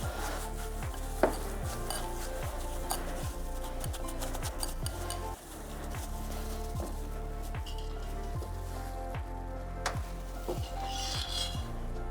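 Masala spices being stirred into potatoes, a spoon clinking against the pot in a quick, steady rhythm, faint and close, over a low background drone.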